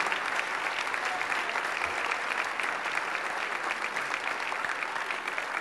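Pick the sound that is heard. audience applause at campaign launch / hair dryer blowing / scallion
audience applause at campaign launch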